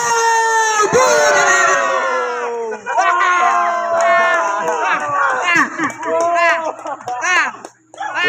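Spectators at a basketball game between Lawnell Trading and LDG Peace and Order shout and yell, with many overlapping excited voices rising and falling loudly at close range.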